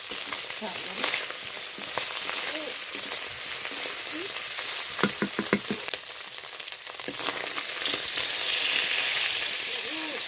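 Onion fries in a pan for a village-style small-fish curry with potato and tomato, producing a continuous dense sizzle with a few quick stirring taps, and the hiss grows louder toward the end.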